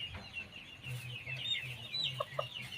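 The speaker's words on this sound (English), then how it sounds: "Khmer chicken also. Yeah, listen the real sound at my chicken home." Khmer hens clucking at a countryside chicken farm in Cambodia, several birds giving short repeated clucks and a few higher calls, fairly close, with no talking.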